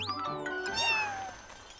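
A kitten stuck up a tree in an animated cartoon gives a couple of high, rising-and-falling meows, close and clear over a soft background with no talking.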